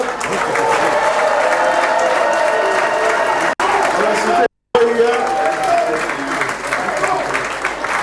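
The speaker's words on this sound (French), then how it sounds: "Je demande des applaudissements plus haut pour que lui là-bas," A large crowd at an election campaign rally applauds and cheers loudly and continuously, with people shouting and talking over the clapping and a brief break partway through.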